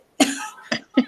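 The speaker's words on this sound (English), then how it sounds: "sorry, had to cough again." Three harsh coughs from one nearby person, a long rasping first burst followed by two shorter ones about half a second apart, during a casual conversation.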